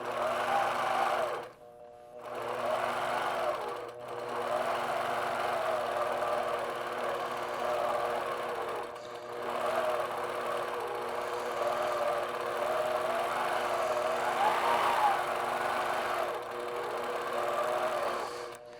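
A sewing machine runs steadily while ruler quilting a piano keys design on a quilt, its rapid mechanical stitching hum pausing briefly a few times before starting again, close and fairly quiet.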